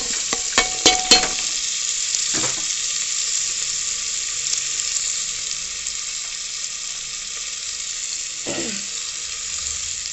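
Two dried red chillies and garlic fry in hot oil while being stirred, a strong steady sizzle with a burst of spoon clanks at the start and a couple of scrapes later, close and continuous.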